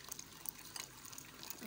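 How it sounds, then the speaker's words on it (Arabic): Boiling hot water is poured over a spoonful of garlic, giving a close, soft splashing trickle with fine bubbly crackle. "هنزل عليها بميه سخنه بتغلي"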